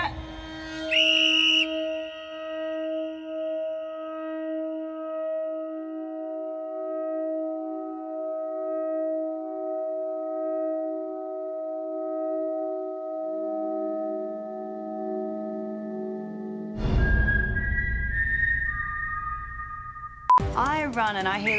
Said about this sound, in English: I run and I hear the whistle go